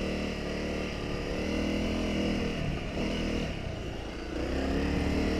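A CRF250 Rally motorcycle churning through soft beach sand at Goolwa, South Australia, with a continuous, loud engine roar that dips briefly and then picks back up, heard close with wind noise.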